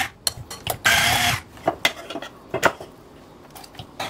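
Butter whisked by hand with a wire whisk in a bowl, giving irregular metallic clinks and scraping taps against the bowl, close and fairly quiet, with one longer burst of rapid whisking near the start.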